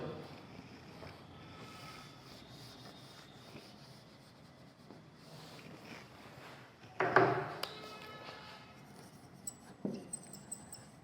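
Hand writing with a pen or marker during a maths lesson, faint scratchy strokes coming in short runs, with one sharper knock partway through and a few light taps near the end, no talking.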